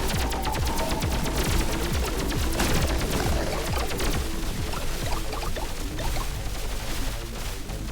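Rapid gunfire in the video game Pathogenic: a dense, continuous rattle of shots with splattering effects, loud and sustained throughout with no talk.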